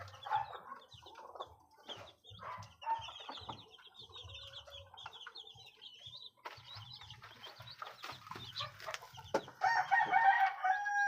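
Chickens cluck and chatter close by while a rooster crows near the end, with soft peeping throughout; no voices.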